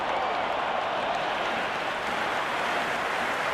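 Stadium crowd in a cricket video game roars in a steady, dense wash of cheering and applause, loud and unbroken throughout.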